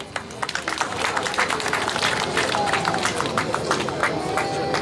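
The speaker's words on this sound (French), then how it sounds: "Est-ce qu'on peut applaudir pour Aja, s'il vous plaît?" Audience applause at a funeral ceremony, a dense, steady wash of many hands clapping that swells in and holds throughout, with crowd noise mixed in.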